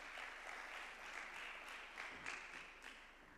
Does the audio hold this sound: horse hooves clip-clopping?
no